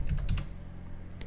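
Rapid keystrokes on a computer keyboard entering a network command in Windows, a quick cluster of clicks at the start and a lone tap near the end, close and clear with no talking.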